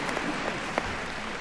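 A short burst of hand clapping from an audience at a commencement ceremony, dense and steady for a moment with no voices over it.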